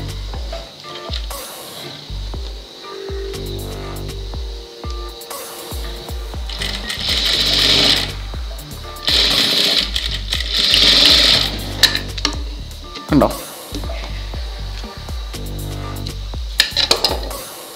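Sewing machine stitching along a marked sleeve line of a blouse, running in bursts of fast, even whirring with short pauses between seams, close and fairly loud with no talk.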